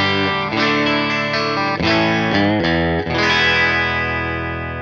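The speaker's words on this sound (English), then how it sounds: "The clean tone on the bridge sounds like this." An electric guitar on its bridge pickup, played through a Fender Blues Jr amp with a clean setting. Sustained chords ring loud and full, shifting every second or so, with no voices.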